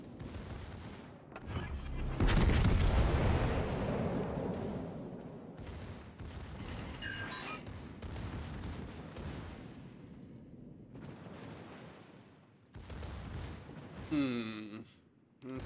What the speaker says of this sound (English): Start firing.